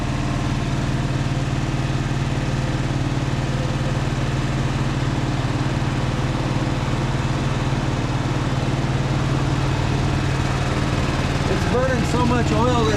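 An old engine burning heavy oil idles steadily indoors with a fan nearby, a constant low rumble running unchanged throughout, joined near the end by a brief extra sound.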